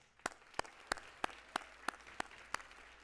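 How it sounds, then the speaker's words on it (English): Crisp, evenly spaced hand claps at a Miss Utah Volunteer pageant, about three per second in a slow steady rhythm, sounding sparse and fairly quiet against a faint room hum. "So one more round of applause."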